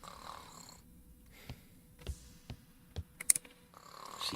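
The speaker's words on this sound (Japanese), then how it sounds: "いびきかいてねと。" A person sleeps and snores in a game, with slow, soft snoring breaths repeating at about half-second intervals over a quiet background. A few sharp clicks come near the end.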